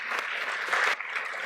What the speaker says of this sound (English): So wild applause for them.